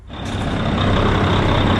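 A 2012 Kenworth T800 truck's Paccar MX 455 hp diesel engine roars to life and keeps running loud and steady, recorded up close.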